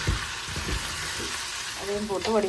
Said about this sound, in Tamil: நல்லா பொரிஞ்சு வந்துட்டு இனி இதுக்குள்ளே இதோட சின்ன சின்னனா வெட்டி வச்ச உருளைக்கிழங்கு போடுவேன்.